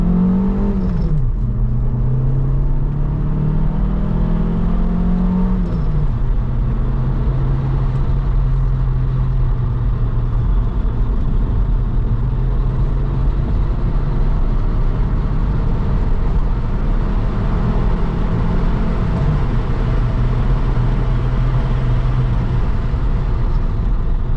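An ultra rare Vauxhall Cavalier Diplomat driven for the first time in years, its engine humming steadily from inside the car with a couple of rising revs as it accelerates and shifts, a continuous close drone throughout.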